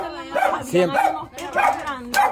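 A small dog barks in quick, yappy bursts close by while a person talks over and between the barks.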